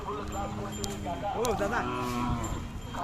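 At a cattle fair, a Khillar dairy cow gives a long, wavering moo partway through, close by, with people talking throughout and faint clip-clop and livestock bustle around.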